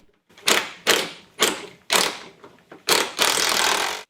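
Ratchet tightening 12mm nuts on a 2004 Infiniti G35X hood hinge, heard as six close, distinct bursts of rapid clicking in an uneven rhythm, the last stretch longer and steadier, with no talking.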